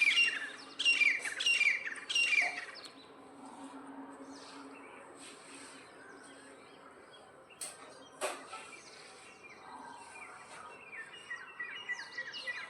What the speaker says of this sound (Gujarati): જો મને કેવું મસ્ત મજાનું પક્ષી બોલતા હોય સવારમાં.